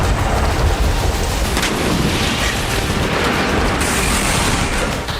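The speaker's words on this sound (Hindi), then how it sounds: "रूस ने एक साथ एक ठिकाने पर 5 बम दागे और लगातार विस्फोट होने लगे।" Barrel bomb strikes by Russian forces on Ukrainian positions in Donetsk, with five bombs dropped on one site: a dense, continuous roar of rumbling and crackling blasts that stays loud and steady throughout, with no voices.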